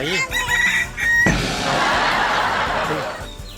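A child imitates a rooster crowing with a short, wavering crow-like call, then a burst of rushing noise and background chatter.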